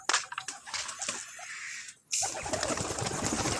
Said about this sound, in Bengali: আর নতুন দুটো পায়রা কোথায়, এই তো নতুন দুটো পায়রা।